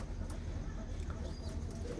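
Racing pigeons coo softly on a rooftop loft, a low steady murmuring under a broad background hum, with no voices heard.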